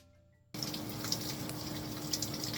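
Shower water switches on abruptly and then runs in a steady, close hiss that fills the rest of the moment, with no voices over it.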